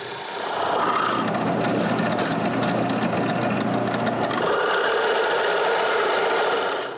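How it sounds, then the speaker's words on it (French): A large Forstner bit drills holes in wood with a steady, loud grinding rasp that shifts in tone partway through and runs continuously without talk. "avec une grosse mèche Forstner, je perce des trous directement sur mes marques"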